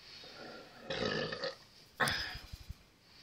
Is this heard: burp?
yes